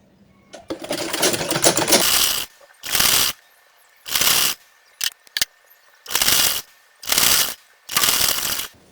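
A sewing machine stitches a burqa sleeve in a run of separate bursts, one long opening stretch then five or six shorter, evenly spaced runs of fast mechanical whirring with silent gaps between, close and clear.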